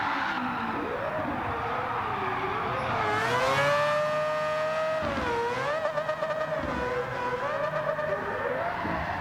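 A high, whining 1000 HP Mazda RX-7 (FD) rotary race engine in Gran Turismo 7 revs and shifts pitch continuously, rising and falling through gear changes, loud and close with no voices.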